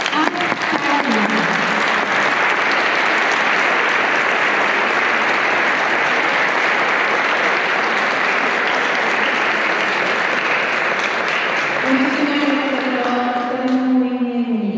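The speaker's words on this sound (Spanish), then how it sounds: "les voy a pedir que recibamos con un fuerte aplauso a Sara" Sustained audience applause welcoming Sara, the speaker at a family-rights rally event. Steady, dense clapping fills the whole stretch, with a voice briefly heard at the start and again near the end.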